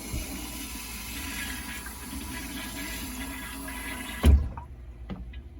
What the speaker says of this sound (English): Juan turned on the water to the toilet downstairs at the manifold